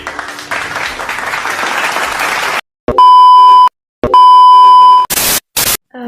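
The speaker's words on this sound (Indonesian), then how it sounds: "Tepuk tangan dulu untuk Adi." Classroom applause for a student during a teaching session, a burst of clapping for about two and a half seconds that stops abruptly, followed by loud electronic beeps and bursts of noise.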